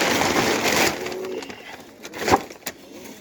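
Caged pigeons being moved into a new home give soft, close cooing with a few short scuffling bumps, heard alone without talk.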